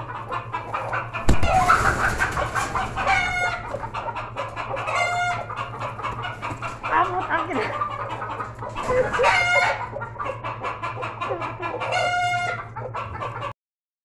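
Hens clucking and a rooster crowing in repeated bursts, loud and close, with chicken calls continuing steadily through and harmonic crows standing out about every three seconds; no talk.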